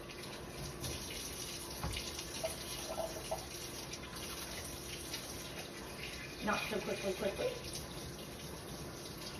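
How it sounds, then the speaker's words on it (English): A kitchen sink tap runs steadily while hands are washed beneath it, a continuous close hiss of water with brief splashes, and a person speaks a few words over it. "what I'm gonna do is quickly wash my hands"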